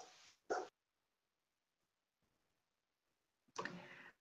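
A dog barks over a video call, a couple of sharp barks at the start and another loud bark near the end, separated by near silence.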